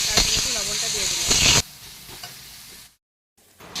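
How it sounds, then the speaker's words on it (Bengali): Onions sizzling and frying in oil with garlic and cumin, loud hissing and stirring scrapes close up, the sizzle dropping away midway before a short silence and a brief return. "তো পেঁয়াজটা ভাজা ভাজা হয়ে গেছে"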